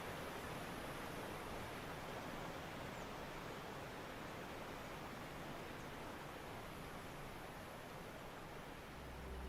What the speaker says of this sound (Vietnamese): Nước mưa đã dồn đầy các dòng suối và cả cánh rừng đang tràn trề nước.